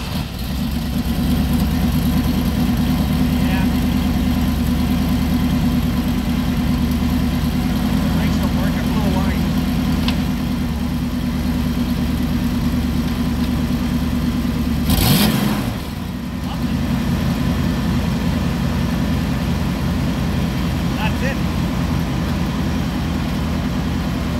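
A 1991 Ford F350 plow truck with a 7.5 litre engine idles loud and close with a deep, steady rumble, surging briefly in a rev midway before settling back; a voice speaks over it.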